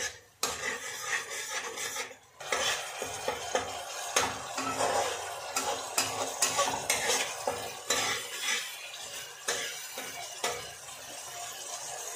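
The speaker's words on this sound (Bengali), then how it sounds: "এরপর মশলাটিকে খুব ভালোভাবে কষিয়ে নেব যতক্ষণ পর্যন্ত না মশলা থেকে তেল ছেড়ে বেরিয়ে আসে।" Spice paste scraped and stirred in hot oil for a catfish curry, a metal spatula clattering against the pan over a steady sizzle and frying crackle, close and continuous, with no talk.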